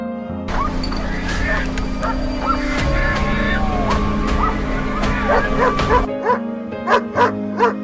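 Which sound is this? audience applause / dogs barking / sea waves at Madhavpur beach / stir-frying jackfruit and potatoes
dogs barking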